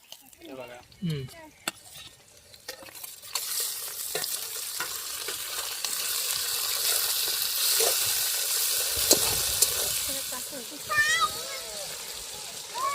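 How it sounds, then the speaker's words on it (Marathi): Chillies and onion sizzle steadily as they are stirred in a pan at an outdoor riverside family cookout, with a broad frying hiss building after the first few seconds and voices talking over it. "चांगलं मिक्स करून घ्यायचंय म्हणजे शिजून द्यायचं ते मिरच्या आणि कांदा"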